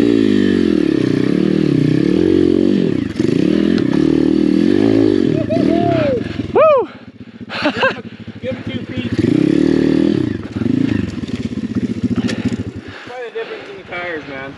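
A Chinese dirt bike on a hard enduro hill climb, engine revving and bogging in loud surges with clattering and scraping over rocks, cutting out briefly midway before roaring again, with a rider's voice over it.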